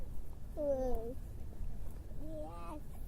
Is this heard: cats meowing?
yes